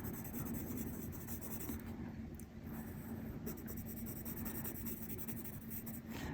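Steady scratchy rubbing of pencil shading across paper, continuous and close, with a constant background hum.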